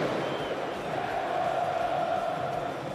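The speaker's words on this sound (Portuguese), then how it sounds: "Os rubro-negros ocuparam a maior parte do estádio e fizeram muito barulho." Flamengo supporters fill the Maracanã stadium with a steady, dense roar of crowd noise that holds at a constant level throughout, with no single voice standing out.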